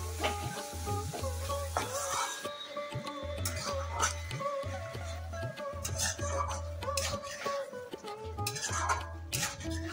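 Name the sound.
frying spice paste with tomato in a pan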